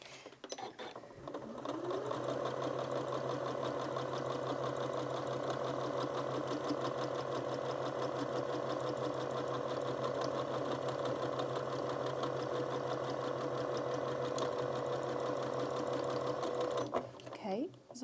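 A Janome Memory Craft 9480QCP sewing machine stitches continuously for roughly fifteen seconds, a close, even mechanical whir and rapid needle chatter that stops abruptly near the end.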